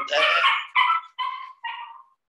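A female dog whimpers and yips excitedly in four short, close bursts, the first the longest and the later ones briefer, followed by silence.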